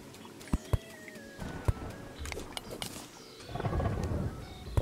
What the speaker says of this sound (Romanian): Ok, fulgeră, nu înțeleg de ce fulgeră